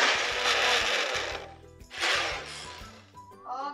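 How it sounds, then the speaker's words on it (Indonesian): Kitchen blender whirring as it blends cooking ingredients for an asam pedas fish dish, loud and close in two long bursts with a brief pause, a little clinking at the end. "So, first step kita blender dulu bahan-bahan nih."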